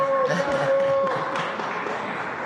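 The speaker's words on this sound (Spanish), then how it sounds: "Vamos a darle un aplauso a Reina" Audience applause welcoming a returning guest at a Mexican presidential morning press conference, a short burst of clapping mixed with voices and a speaker talking over it.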